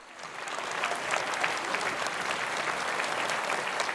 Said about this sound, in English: Why don't we give them a round of applause for supporting the program?